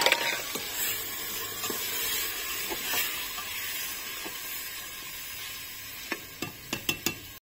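Tomatoes and green chili fry in hot oil with cumin over a wood-fired stove, a steady close sizzle with stirring scrapes, ending in a few sharp clinks of a utensil against the pan.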